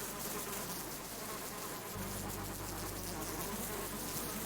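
A bee swarm in the survival video game Subsistence buzzes continuously in a dense drone, with a low hum that swells noticeably partway through as the swarm seems to close in.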